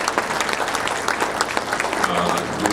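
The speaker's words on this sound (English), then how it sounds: "We could give them a round of applause." An audience at a spring reunion reception claps in a steady, dense round of applause throughout, close and full, with faint crowd murmur underneath.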